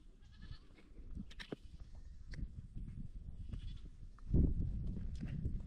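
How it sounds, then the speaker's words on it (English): Goats bleat on a village farm amid soft outdoor ambience, with scattered calls and one louder, closer bleat near the end. "The goats are coming up."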